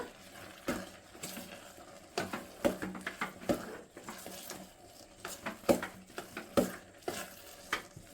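A spoon stirs a dry toor dal and poppy seed mixture in a pan, with irregular close scrapes and light clinks against the metal, some quiet gaps between bursts.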